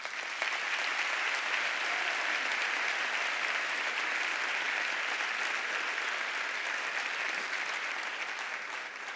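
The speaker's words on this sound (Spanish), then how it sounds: "Fuerte el aplauso para ellos" Steady applause from a large audience at a twentieth-anniversary gala for a carnival murga troupe, a dense, even wash of clapping that holds at full strength for about nine seconds before easing slightly at the end.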